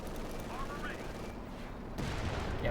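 Rapid MG42 machine-gun fire crackles in a Company of Heroes 2 battle, a steady dense rattle with distant gunfire and explosions; a commentator talks over it.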